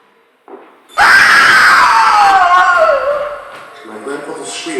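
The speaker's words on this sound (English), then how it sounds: "My grandfather's scream suddenly cut through the silence." A man lets out a long, loud, close scream that slides downward in pitch and fades over a few seconds, with a brief vocal sound before it and a softer voice trailing after.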